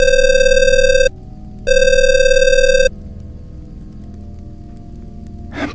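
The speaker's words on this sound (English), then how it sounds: "the phone rang again" A telephone rings with a sharp, piercing electronic bell tone in two loud bursts of about a second each, separated by a brief gap, then gives way to a faint low room hum.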